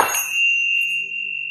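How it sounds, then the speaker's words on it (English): A single bright Tibetan bell strike rings out and sustains with a clear, pure tone that slowly fades, close and alone. "I also found these Tibetan bells"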